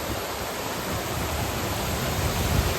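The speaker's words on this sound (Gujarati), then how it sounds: "ઝરણાનો આનંદ ઉઠાવો કેવું સરસ મજાનું વોટરફોલ છે" A village waterfall and stream near Dhoraji pours with a steady, loud, close broadband rush of falling water that never lets up, and no voices are heard.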